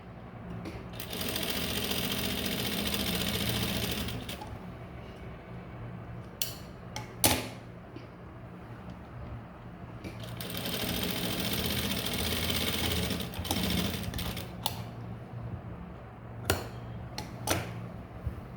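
A sewing machine stitches blouse fabric with a steady close whir in two long runs separated by a pause, with sharp clicks and handling knocks between the runs.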